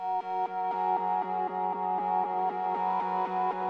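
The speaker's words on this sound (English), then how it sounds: "We have that same analog pad, but now we're actually playing that staccato pattern." Staccato analog synth pad blending Jupiter with Mellotron or Juno layers, playing a quick, even pattern of short repeated chords, about fourteen crisp hits at moderate level with no voices.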